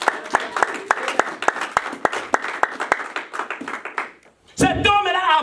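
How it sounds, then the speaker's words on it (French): A church congregation claps in a steady, rhythmic beat for about four seconds, the sharp claps close and distinct, followed after a short pause by a person speaking. "Applaudissons pour notre Dieu."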